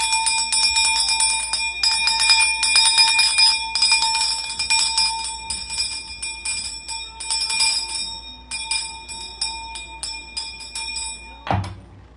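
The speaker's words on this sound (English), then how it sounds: "let's do a sound clearing with my mother, Shun's bell." A single bell is struck once for a sound clearing, ringing out bright and steady, then slowly decaying for about eleven seconds before a soft thunk ends it.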